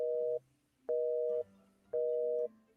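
A telephone busy signal: three steady electronic beeps, each about half a second, separated by equal silences, clear and close.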